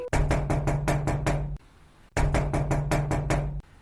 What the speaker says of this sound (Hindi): दरवाजे पर दस्तक हुई।